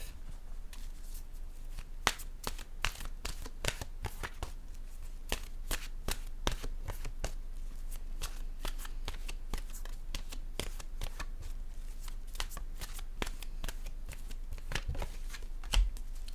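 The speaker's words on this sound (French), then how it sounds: "Je vais piger maintenant une carte de mon oracle de l'âme intuitive" Oracle card deck being shuffled and cards drawn, a steady run of crisp riffling flicks and slaps close by, continuing evenly without talk.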